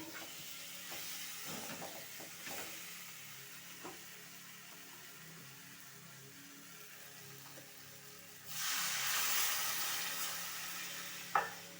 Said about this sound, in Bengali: এখন আমি এটাতে পরিমাণ মতো জল দিয়ে দেবো।